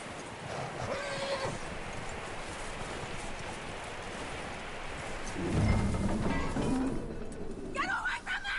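In the video game Red Dead Redemption 2, a horse whinnies and its hooves clop over a steady wash of background noise, while voices talk at moments.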